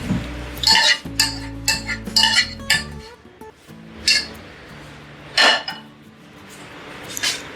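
Metal utensils clink and scrape against a pot and dish as talbina is served out, a series of sharp irregular clanks with short pauses between, close up and without talk.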